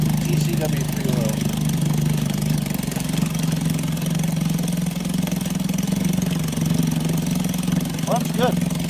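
A 1958 Evinrude Fleetwin 7.5 hp outboard motor runs on a 16:1 gas-oil mix, holding a steady, even mid-pitched drone close by for the whole stretch without a break.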